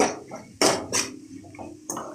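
Metal utensil scraping and knocking against a pan while beans kurma is stirred and sautéed, a few sharp clanks spaced among softer scraping, close and alone.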